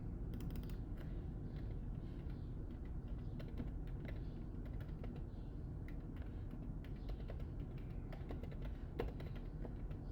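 Typing on a computer keyboard, a steady run of fast, close clicks and key taps over a low background hum, with no voices.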